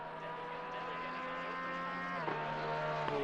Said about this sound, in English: the Porsche 992, which you can currently hear screaming in the background right now